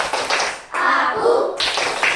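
Schoolchildren in a fourth-grade primary classroom clap together in a rhythmic concentration clap, a dense burst of hand claps in two clusters separated by a brief pause, loud and close.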